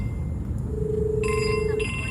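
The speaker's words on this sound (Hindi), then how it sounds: "लो जी, एक और सर्वेयर का फोन आ गया," A phone rings with a bright electronic tone over steady low background noise, lasting about a second and a half.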